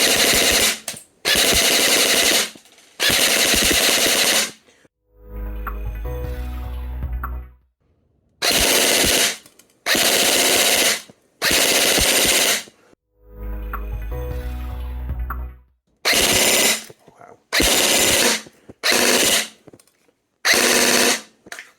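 A WELL WE01A airsoft gun fires in loud full-auto bursts until the magazine is empty, the bursts broken by quieter mechanical clatter and handling noise between strings.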